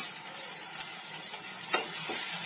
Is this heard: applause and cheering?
no